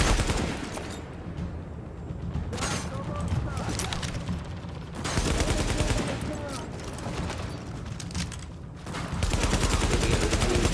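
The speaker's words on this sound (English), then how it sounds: "Who else is shooting at me?" Gunfire in Tom Clancy's The Division at the Hudson Refugee Camp: loud bursts of automatic fire and scattered shots come in several dense volleys amid mechanical clatter, with a voice talking at times.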